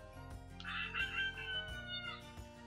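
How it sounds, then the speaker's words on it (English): A recorded rooster from a children's noisy farm sound book crows a loud cock-a-doodle-doo over a cheerful musical jingle, alone with no talking. "Ruffle the rooster's feathers to hear him cock-a-doodle-doo."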